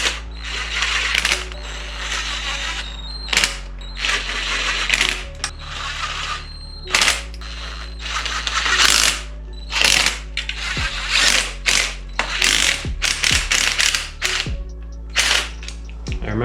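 A ratchet wrench runs bolts down into a Toyota 2JZ cylinder head during a head gasket and timing belt job, giving bursts of close, fast metallic clicking with short pauses between strokes.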